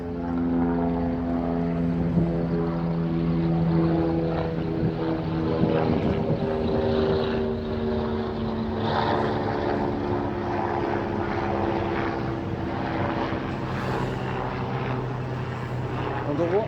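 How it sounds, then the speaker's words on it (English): A steady engine drone and rotor thrum fills the whole stretch, loud and continuous as an AgustaWestland AW109 helicopter passes overhead. "an Augusta Westland AW109 helicopter passing overhead"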